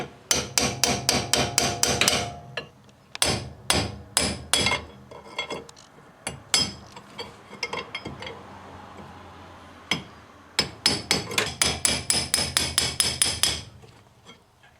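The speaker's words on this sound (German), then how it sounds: "Die müssen wir erstmal gerade biegen. Das machen wir jetzt mit dem langen Meißel von hier oben." A long chisel is hammered to straighten bent locking plates on an Audi 100 A6 C4 during steering gear boot replacement: fast, loud metallic blows in rapid runs, close by, separated by brief pauses and a few scattered single strikes.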